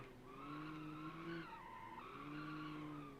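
A car in the BeamNG racing game skids under the handbrake, tires squealing in two long tonal slides with a short break between, loud and close with no talking.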